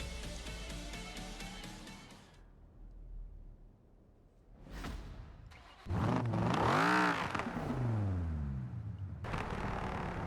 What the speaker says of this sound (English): you can kind of hear the crackles of the car and the sounds of it